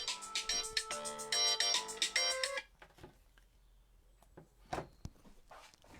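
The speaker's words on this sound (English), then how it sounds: "And now the phone's ringing." A phone ringtone plays a bright repeating melody for a few seconds, then cuts off, leaving a quiet room with a few small knocks.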